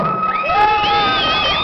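A festive crowd at a finale event cheers and whoops loudly over steady music with sustained tonal lines, the noise holding at a constant level throughout.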